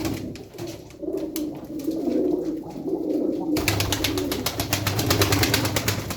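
Tumbler pigeons coo in low, throaty rolling calls, nearby and continuous. Midway a steady broadband rush of noise begins and carries on beneath the cooing.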